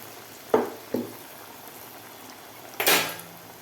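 Vada frying in hot oil on medium gas, a soft continuous sizzle and bubbling with a few louder clinks and splashes as pieces are handled, the last one followed by a brief rushing burst.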